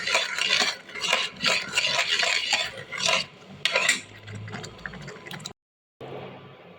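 Puran made from overcooked white chickpeas, mixed with cardamom powder, is stirred in a pot with a spoon in quick rhythmic scraping strokes, close and clear, then slows near the end.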